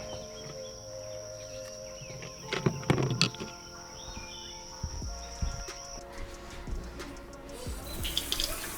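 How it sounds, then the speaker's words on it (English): Tap water runs steadily in a sink while a bear skull is washed after whitening, with faint clatter and splashing, a few louder knocks near the start and a bright hiss rising at the end. "I'll go in and wash off this big bear"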